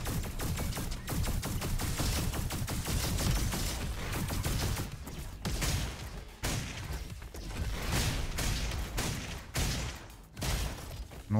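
Rapid shotgun blasts from the Roboquest first-person shooter fire in quick, dense succession, with loud bursts, brief pauses and mechanical clatter throughout the busy combat.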